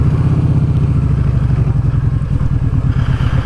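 A Kawasaki Vulcan Vaquero motorcycle with the exhaust baffle removed is revved close by. Its loud, throbbing engine pulses are overlaid with a rapid metallic rattle from something loose on the side.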